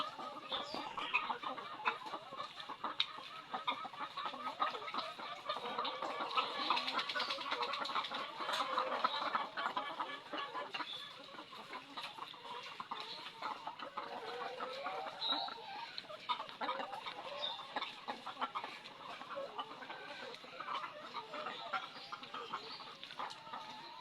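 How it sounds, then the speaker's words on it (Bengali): Laying hens cluck and squawk continuously inside a layer farm shed built over a pond, a dense chorus of many birds at moderate distance with no talk. "মুরগি দেখতে পাচ্ছেন"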